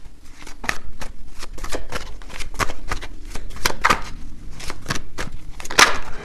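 A deck of tarot cards is shuffled close up in a fast series of crisp riffles and slaps, with short bursts repeating for several seconds.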